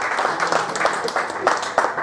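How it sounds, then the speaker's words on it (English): Brief crowd applause, a busy patter of clapping with some voices mixed in, fairly loud and close. "Round of applause, very good."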